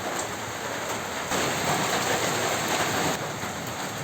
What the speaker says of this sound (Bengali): এই যে সে বৃষ্টি দেখতেছে বাহিরে